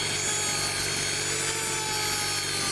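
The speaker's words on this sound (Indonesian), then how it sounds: "Kita pakai gerenda mini guys" Mini angle grinder smoothing a Hino truck wheel rim, a steady buzzing whine with grinding rasp, continuous and close throughout.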